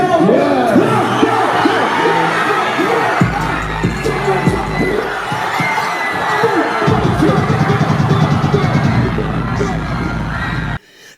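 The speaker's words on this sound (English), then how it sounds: "The crowd starts going crazy." A crowd goes wild at a London hip-hop show, with loud continuous cheering, shouting and whooping over a heavy, throbbing bass-driven track, intense throughout before cutting off at the end.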